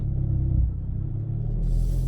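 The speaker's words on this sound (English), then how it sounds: "I think the exhaust is in sport mode now. Loudest exhaust." A Hyundai Veloster N hot hatch with its exhaust in sport mode, a deep pulsing rumble close by as the engine runs and rolls off, with a hiss rising at the end.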